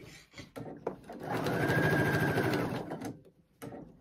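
A domestic sewing machine runs in one continuous burst of about two seconds, stitching a seam along the side of an upcycled t-shirt and flannel shirt, with brief handling noises before and after.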